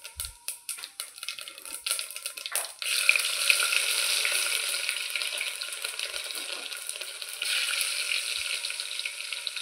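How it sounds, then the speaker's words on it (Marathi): Cumin seeds hit hot oil for tempering, a few sharp pops at first, then a loud, dense sizzle with crackling that holds steady and close. "जिरं चांगलं तडतडलं की लसूण टाकायचं आहे"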